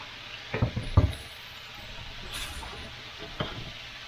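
Steak and peppers cook in a pan with a soft continuous sizzle, broken by a few close knocks and scrapes of a utensil against the pan near the start and once more near the end.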